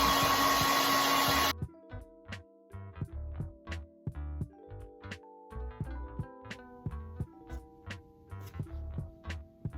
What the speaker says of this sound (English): I'm just gonna go ahead and blow dry the ends like this without stretching them out.